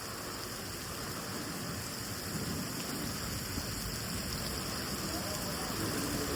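Very heavy rain pours down in a thunderstorm, giving a dense, steady roar that stays constant throughout, with no clear thunderclap standing out.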